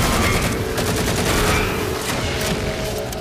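Steady assault rifle fire in Halo 4 Spartan Ops multiplayer-style combat, a dense continuous volley of rapid shots mixed with battle noise, loud and close throughout.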